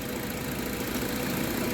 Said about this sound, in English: Oh wow, there it is shutting down.